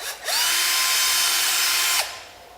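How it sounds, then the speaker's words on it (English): Power drill boring screw holes for a door hinge during a door installation: one close, steady high whine lasting nearly two seconds with a rising start and a clean cutoff, alone in a quiet room. "Then all I have to do is drill those out to keep my centers even"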